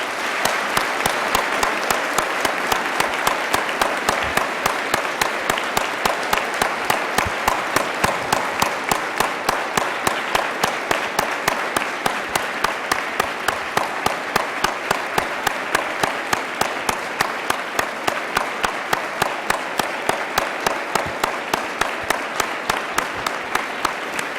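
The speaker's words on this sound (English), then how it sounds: "let's please give our veterans a round of applause and a standing ovation" Sustained, dense applause from a large crowd giving a standing ovation at a high school Veterans Day program, steady and loud throughout with no voices breaking through.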